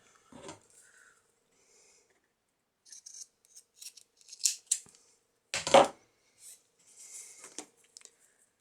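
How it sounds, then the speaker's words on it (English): Scissors snipping paper for a shabby chic journal pocket, a scattered series of close, crisp cuts separated by quiet pauses. "I'm going to cut that shorter."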